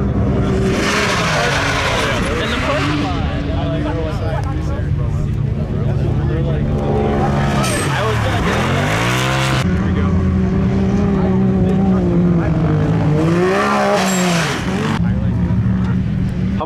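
A car engine drones and revs on sand dunes at Silver Lake, rising and falling in pitch with several strong accelerations, loud and close, while people talk over it.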